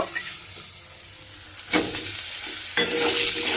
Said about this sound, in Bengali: এইবারে আমি ওই তেলের মধ্যে দেব বেগুন